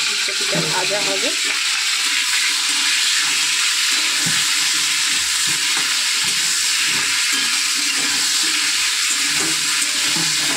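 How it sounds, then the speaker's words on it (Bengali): Cauliflower florets fry in oil with a continuous, even sizzle, punctuated by a few brief utensil scrapes early on; quiet voices are faintly present. "এইভাবে ফুলকপিগুলো ভেজে নেবে ভালো করে।"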